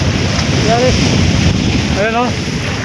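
Strong surf at Sabang Beach, Palawan, roars loudly and close amid heavy wind buffeting the microphone, while a voice briefly speaks over the rushing water.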